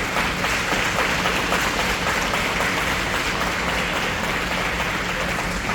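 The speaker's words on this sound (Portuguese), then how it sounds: "Você pode sentar aplaudindo a palavra de Deus?" Sustained applause from a church congregation during a celebration service, a dense, steady wash of clapping that stays loud and even throughout with no talk over it.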